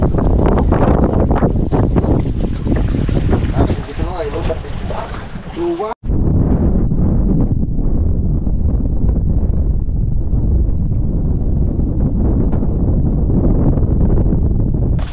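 Strong wind at the sea buffets the microphone with a loud, constant roar and rumble, heard alongside waves and boat noise, with voices talking beneath; after a sharp break midway the gusts continue heavy and steady.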